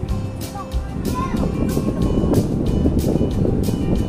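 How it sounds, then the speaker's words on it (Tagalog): Wind blowing near an almond tree, a strong continuous rush with heavy low buffeting against the microphone and regular soft ticking pulses throughout, with no clear speech. "Mahangin, guys."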